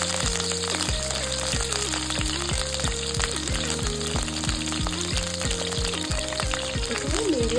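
Green chillies and curry leaves frying in hot oil for egg fried rice, a steady close, loud sizzle and crackle running throughout under a repeating background melody, with no talking.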